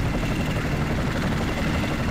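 Steady, loud helicopter rotor and engine drone fills the whole stretch, a dense continuous thrum heard from up close inside a transport chopper in the military shooter Project Reality on the Goose Green map.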